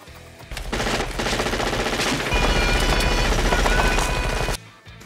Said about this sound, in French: Je finis l'ail à la mitraillette.